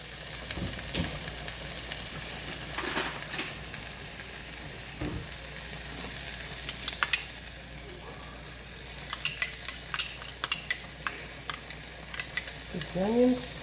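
Onions sautéing in butter in a pan give a steady low sizzle throughout, with a few soft stirring clinks and scrapes scattered near the end.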